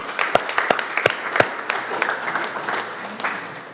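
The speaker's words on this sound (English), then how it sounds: "round of applause to SEMO" Several loud, close individual claps ring out at a team update meeting, followed by softer scattered clapping from a small group while voices murmur in the background.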